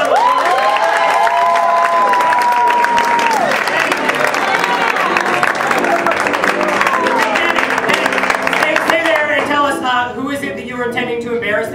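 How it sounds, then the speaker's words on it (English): Audience at an evening celebration breaks into loud applause and cheering, sustained clapping under whoops, shouts and excited voices, with people talking and yelling over the crowd noise near the end. "accept this round of applause."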